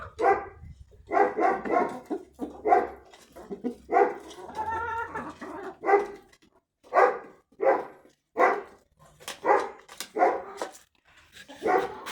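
A dog barks repeatedly in short, evenly spaced volleys outdoors in spring, fairly close and loud, with a faint clucking chicken heard once in the middle of the barking.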